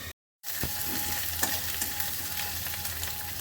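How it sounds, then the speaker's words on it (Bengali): Onions frying in a pan give a steady, close sizzle after a brief silent gap at the start, with no voices. "এবার পেঁয়াজটা ভাজা হবে"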